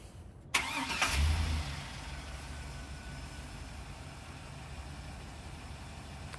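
The engine of a 2003 GMC Yukon XL starts by remote start, with a brief starter crank and a catch into a louder rev before it settles into a steady, fairly quiet idle.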